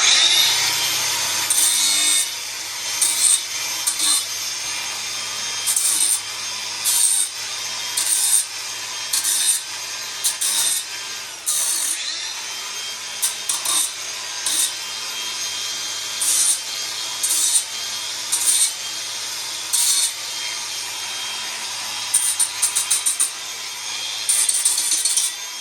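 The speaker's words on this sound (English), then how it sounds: "So I'll get that set up with a linish pad and we'll just clean up these ends" A Makita grinder fitted with a linishing pad cleans up the cut ends of metal tubing for a bike trailer, grinding in repeated bursts of loud, harsh abrasive rasping broken by brief pauses, close and alone with no talk.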